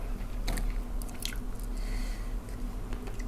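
Close, loud wet biting and chewing of braised soy sauce chicken feet eaten with rice, squishy mouth sounds over a steady background hum with no talking.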